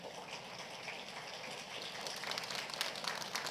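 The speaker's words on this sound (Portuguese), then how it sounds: "Eu convido você a dar uma grande salva de palmas à palavra do Senhor" A church congregation applauds after a scripture reading, a faint, steady patter of many hands clapping from a distance that swells slightly toward the end.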